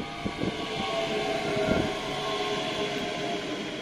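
Train rumbling into a station platform, a steady low mechanical hum and rolling noise with faint clunks, moderately distant and without speech.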